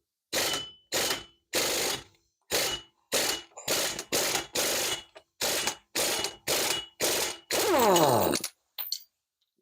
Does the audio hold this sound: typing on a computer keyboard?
no